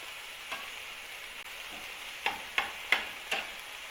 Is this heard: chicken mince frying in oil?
yes